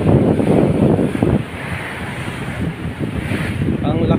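Rough sea waves and gusting wind on a rainy day off Bindoy, Negros Oriental: a loud, continuous wash of surf with wind buffeting the microphone and pulsing swells.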